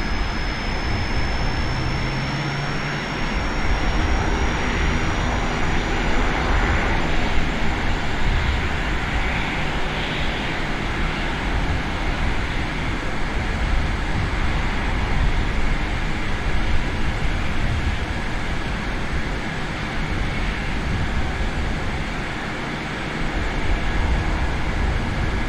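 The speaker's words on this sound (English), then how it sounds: "We have a good engine start." Airliner jet engines in Microsoft Flight Simulator 2020 roar at a steady idle after start, a continuous broad rumble with a faint high whine, loud and unbroken throughout.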